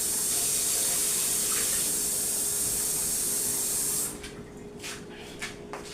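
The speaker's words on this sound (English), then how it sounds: "I'm going to put a little cool water in it." Cool water pours into Jamaican-style coconut dumpling dough in a kitchen, a steady splashing hiss lasting about four seconds before stopping abruptly, followed by a few faint handling sounds.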